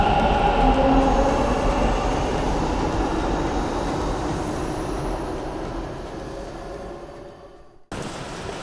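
Metro train pulling out of a station, a loud, close whine and rumble that slowly fades as it leaves, then cuts abruptly to a different steady background near the end, no voices.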